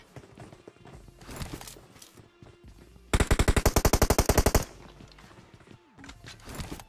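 Rapid automatic gunfire in the mobile shooter PUBG Mobile Lite, a loud sustained burst of evenly spaced shots in the middle, framed by softer footsteps and game movement sounds.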